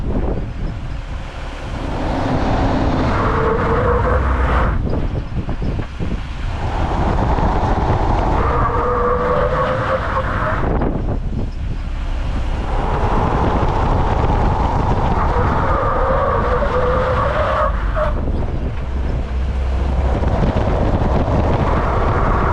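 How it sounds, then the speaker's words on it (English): A Jeep Wrangler brakes hard from speed in repeated tests of up to 120 km/h. Heavy wind and road roar fill the clip, with several descending tonal whines as the vehicle slows, and no talking. "The rear wheels did not leave the ground during hard braking in the Jeep Wrangler"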